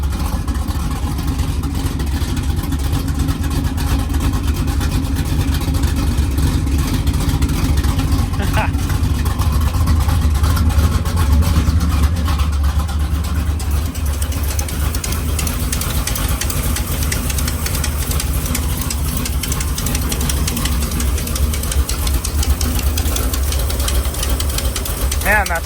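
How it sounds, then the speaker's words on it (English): A 1953 Chevy pickup engine idles steadily with an exhaust leak, giving a continuous rough, chuffing rumble that fills the whole stretch at close range. "No. Exhaust leak right there. That's what that is."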